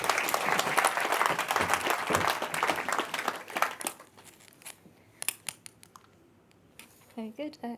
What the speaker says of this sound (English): big round of applause for Natalie, please.